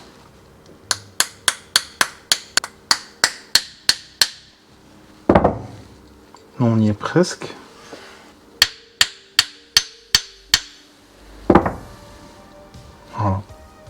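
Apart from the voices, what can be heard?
small hammer tapping a tool on a BMW petrol engine injector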